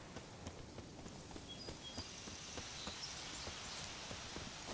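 Horse hooves clip-clop at a steady walking rhythm in The Witcher 3, a string of soft, fairly close footfalls heard over a faint ambient game background.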